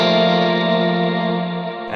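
A sustained guitar chord through an ambient reverb pedal on a medium setting with the mix turned up, a lush, washy tone with chorus-like shimmer that rings out and slowly decays, heard alone.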